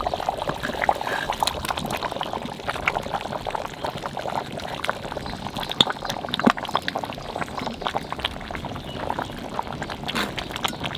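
Potatoes and tomato go into a simmering village-style curry of a large country rooster cooked in ground spices, making a steady wet, pouring and bubbling sound that runs close and continuous, with no talking.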